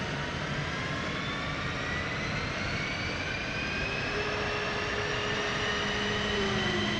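An F-15E fighter jet's number 2 engine spooling up during a startup in the DCS World flight simulator, a loud, steady turbine roar with rising whines that climb in pitch throughout.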